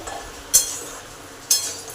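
Peanuts being dry roasted on medium heat, stirred in a pan for jaggery peanut laddu; two sharp metallic clinks of the spoon against the pan about a second apart over a soft steady rustle.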